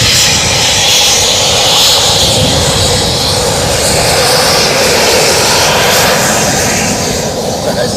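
A Eurofighter Typhoon jet at RAF Coningsby, a loud, continuous engine roar that stays intense throughout, with no talking over it.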